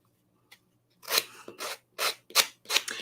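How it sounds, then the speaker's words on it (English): Sandpaper scrapes across the edges of rice paper in five close, crisp rasping strokes, each a short burst separated by brief pauses after a near-silent start. "You can see how nice and clean the sandpaper cleans this up."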